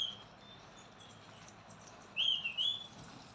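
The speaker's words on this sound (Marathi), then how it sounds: "पक्ष्यांचे आवाज आणि किती छान वाटतंय." A bird gives a couple of short, bright chirps outdoors near a highway, rising briefly over a quiet, faint background hiss.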